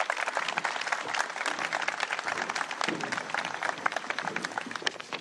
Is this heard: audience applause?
yes